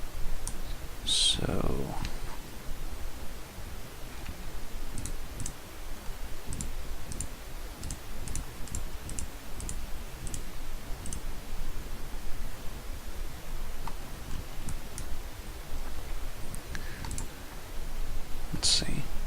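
Computer mouse clicks during texture painting work in Blender, sparse and faint, with a few sharper clicks near the start and end, heard alongside brief speech and a low background hiss.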